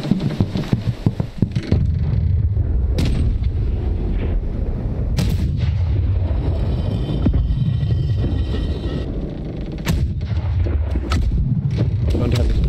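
Aboard a pirate ship in Blackwake, heavy cannon fire sounds as repeated loud booms over rumbling wind and water noise. Voices talk faintly underneath.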